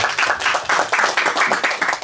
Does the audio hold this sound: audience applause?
yes